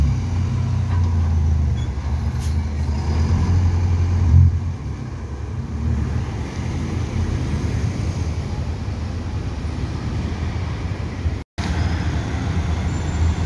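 City bus on route 432 turning into Rua dos Abacates in Deodoro, Rio de Janeiro, a steady low engine rumble with street traffic throughout, rising slightly around the turn, with no clear air brake hiss.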